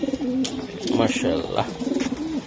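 A racing pigeon coos nearby in soft, rolling repeated phrases, with a person speaking briefly over it.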